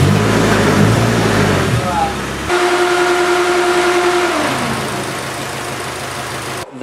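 A car fitted with a new BMW S14 engine fires up and revs near at hand, its tone rising and settling while people talk over the engine noise.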